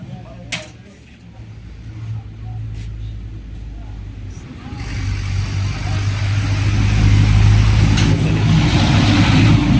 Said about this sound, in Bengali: দেখেন এই গাড়িটি কিন্তু এখন চলে যাবে যশোরের উদ্দেশ্যে।